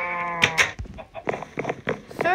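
Sheep in the Minecraft video game bleat several times, a long wavering bleat first and then shorter ones, loud and close, with a person talking in between.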